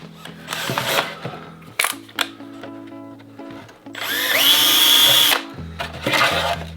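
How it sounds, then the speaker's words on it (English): A power drill re-drilling mounting holes in a repaired plastic part whirs in short bursts with pauses between, then a longer, higher-pitched sustained drilling run, close and fairly loud. "I'm going to have to go ahead and re-drill those mounting holes"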